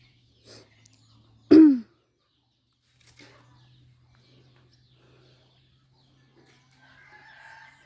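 A rooster gives one loud, close crow in a rural yard, followed by faint scattered clucks and low background hum, with a few soft distant bird calls near the end.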